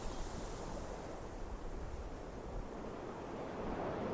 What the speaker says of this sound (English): Alone, all alone, and the waves coming up.